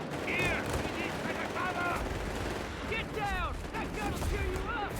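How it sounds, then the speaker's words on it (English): Artillery and machine gun fire in the Company of Heroes 3 strategy game, a steady bed of battle noise with rattling bursts, under a commentator's voice talking throughout. "Bit of artillery here on the southern field point. Machine gun in the center here."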